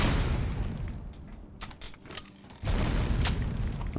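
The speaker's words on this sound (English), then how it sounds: "you shot them grenades at me" Grenade blasts in the survival shooter Dysterra, a dense booming burst at the start, a quieter rumbling stretch with scattered pops, then another heavy explosive wash, moderately distant and with no talk.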